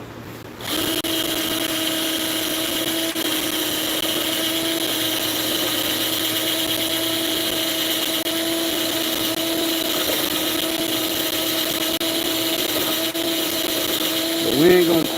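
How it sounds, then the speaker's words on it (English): A power drill runs continuously, boring through wood with a steady, sustained whine and hum that holds at a fairly loud, close level for the whole stretch, with a brief change in pitch near the end. "So don't you feel sorry for this drill."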